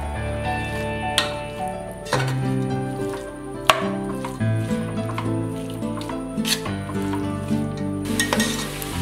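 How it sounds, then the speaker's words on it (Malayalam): Masala-marinated beef sizzles in a pan on the stove for a Kerala beef dish, crackling continuously with intermittent spoon scrapes and clinks as it is stirred. "ഇനി അതിലേക്ക് നമ്മൾ മസാല തിരുമ്മി വെച്ചിരിക്കുന്ന ബീഫ് ഇടുന്നു"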